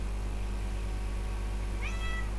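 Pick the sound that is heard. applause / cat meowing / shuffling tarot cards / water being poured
cat meowing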